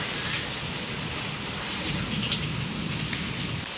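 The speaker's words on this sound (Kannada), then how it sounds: "ಫುಲ್ಲು ಜೋರಾಗಿ ಮಳೆ ಬರ್ತಿದೆ" Heavy rain falls hard and steadily, a close, dense hiss of drops striking surfaces with a few louder splashes, continuous and without voices.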